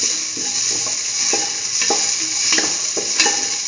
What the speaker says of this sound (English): thoroughly sauteing.